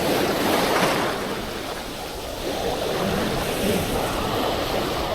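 Strong wind roars over big waves at a beach, a steady, dense wash of surf and gusting noise, moderately loud and unbroken, with no voices.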